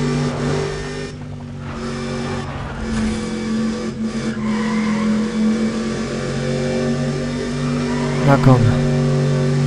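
A Ford Mustang V8 in the racing game Need for Speed ProStreet revs hard against its limiter, a loud, steady, buzzing engine drone that lasts throughout, rising in a sharp burst near the end, while someone talks over it.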